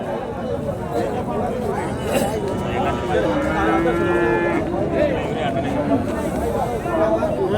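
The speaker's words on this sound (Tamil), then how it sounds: "நம்மக்கிட்ட ஒரு கண்ணுக்குட்டி இருக்குது." A calf at the Matrapalli cattle market lets out a drawn-out moo at close range, with crowd chatter and other livestock noise around it.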